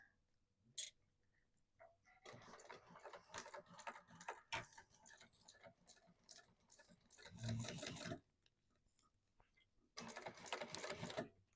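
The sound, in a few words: sewing machine top stitching bag sides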